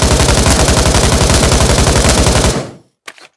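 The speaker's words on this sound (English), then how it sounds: "So let's do the full auto recoil pattern thingamabob here." Sustained full-auto bursts from an AR-platform rifle in the VR shooter Pavlov, loud, rapid and evenly paced, cutting off abruptly as the magazine empties, followed by a brief mechanical click.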